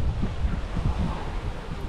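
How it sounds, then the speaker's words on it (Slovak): Wind gusts across the microphone on a beach on the island of Koh Chang, a dense low rumble with buffeting swells, close and fairly loud for the whole stretch, no voices. "Trošku tu fúka."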